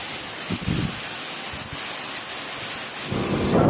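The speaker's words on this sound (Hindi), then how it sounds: "पहले धूप थी, बादल, अब ये बारिश।" Steady heavy monsoon rain at Malshej Ghat hisses throughout, with soft dull thumps of drops mixed in and no one speaking.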